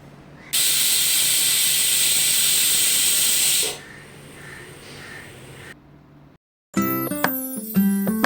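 A pressure cooker cooking dal with chilli powder and salt lets out a loud, steady hissing whistle of steam for about three seconds, then falls to a softer hiss before a short silence and a burst of bright chiming sounds.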